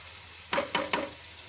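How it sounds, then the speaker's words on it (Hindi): Radish pieces drop into hot fried masala in a pan, giving three quick sizzling bursts in a row over a faint background hiss, close and moderately loud. "अब इसमें मूलियाँ शामिल करने लगे हैं।"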